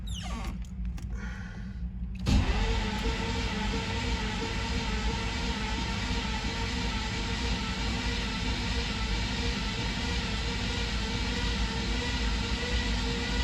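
A car engine with newly wired Holley Sniper 2 fuel injection cranks briefly on its first start, then catches and settles into a steady, loud idle that runs continuously without pause.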